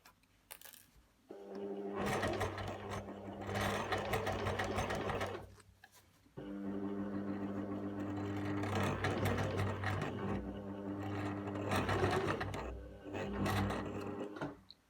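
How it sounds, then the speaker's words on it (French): A domestic sewing machine stitches around a tunic neckline and slit, running in long steady bursts with a brief pause midway, close and clear with no talking. "On va maintenant piquer toute l'encolure et la fente en une seule fois"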